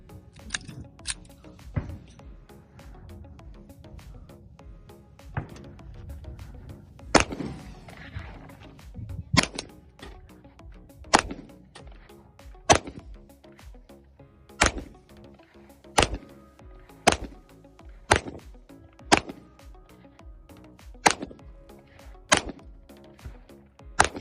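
Repeated pistol gunshots at an outdoor shooting range, sharp cracks fired at irregular intervals early, then in a steadier rhythm of roughly one shot per second or two, with faint handling noise between.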